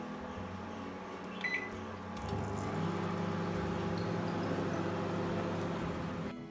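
Electric oven preheating to 180 °C in convection mode: a steady low fan hum that swells and settles partway through, with a faint short tone near the start.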